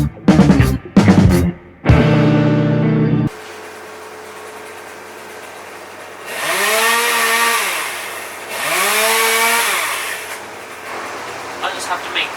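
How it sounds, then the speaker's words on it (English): A neighbour's chainsaw cutting down a tree, revving in two long, rising-and-falling bursts at moderate distance, after some close sharp clatter and a steady hum in the background. "my neighbour decides to cut their tree down"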